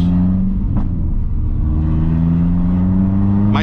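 A Renault Sandero RS engine revs up loud and close, rising and then holding a strained high note near the limiter, with a rumbling exhaust underneath.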